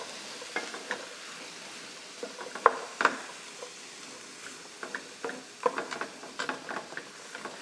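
Onions cooking in a pan, with a soft, steady sizzle under frequent light scrapes and clinks of a utensil stirring against the pan, fairly quiet and close, with no talking.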